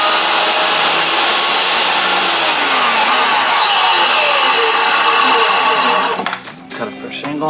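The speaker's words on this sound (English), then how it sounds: "Cut a fresh angle on it." A saw cuts a fresh angle across a wooden deck post, a steady loud buzzing rasp that runs for about six seconds before cutting off abruptly, with only faint room noise after.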